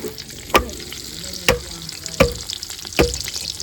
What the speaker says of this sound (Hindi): हमारा घी जना गरम हो चुके हैं, अभी हम करते हैं प्याज ऐड